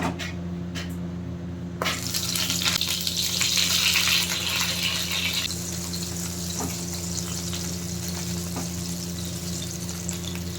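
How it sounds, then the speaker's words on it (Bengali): Eggplant hits a hot pan with a sudden burst of loud sizzling that settles into a steady frying hiss over a constant low background hum. "চলো এবার বেগুনটা ভেজে নিই"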